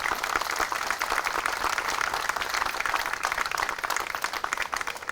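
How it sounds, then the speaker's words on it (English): Outdoor crowd at a park tree house dedication claps in a sustained round of applause, moderately loud and continuous for several seconds. "A big round of applause for them."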